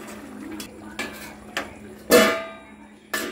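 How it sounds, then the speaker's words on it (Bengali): A spoon knocks against a pan while chhana curry with garam masala and ghee is stirred, giving a few sparse clinks with one louder scrape, and a voice murmurs faintly in the background. "এবার এটাকে ভালো করে নাড়িয়ে আমি বন্ধ করে দেবো"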